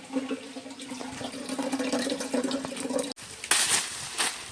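Water poured out and splashing in a steady stream, close and moderately loud, with a brief break before a brighter, stronger splash resumes.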